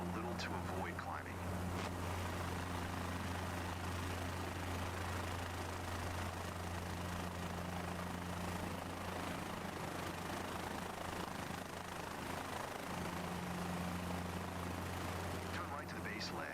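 A helicopter in Microsoft Flight Simulator 2024 hums with a steady low rotor and engine drone, constant tones holding under a faint background while the aircraft flies and slows.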